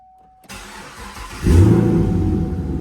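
After a brief silence, a 2014 Chevrolet Camaro SS engine cranks for about a second, then catches and settles into a loud, steady idle.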